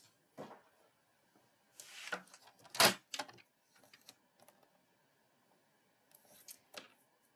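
Card paper being trimmed down to size for a 3D Christmas tree card, with a few faint, quiet cutting and slicing strokes alongside light handling taps, in an otherwise hushed room.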